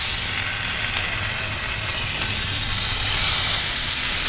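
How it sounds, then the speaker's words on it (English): Bacon sizzling loudly in a hot pan for a smashburger, giving a dense, steady hiss and crackle close up that swells slightly toward the end. "toss in a little bacon."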